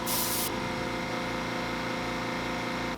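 An airbrush sprays paint onto a fishing lure, opening with a short loud hiss, then a steady softer hiss over the constant hum of a compressor, close by.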